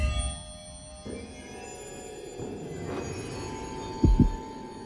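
Heartbeat thumping from the video game The House in Fata Morgana, a brief double thump near the end rising over a low, droning ambient music bed, close and fairly loud.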